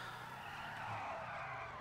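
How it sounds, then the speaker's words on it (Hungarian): A car with big wheels drifting in a video game, its tires squealing in one steady, sustained skid at fairly low volume, with no voices over it. "tehát azt figyeld, milyen driftet vágtunk"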